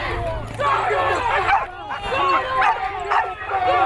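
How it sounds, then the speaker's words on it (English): Dog yipping and barking at an outdoor pipeline protest, repeated short yelps under loud, continuous shouting from several people. "Get your fucking dog out of here!"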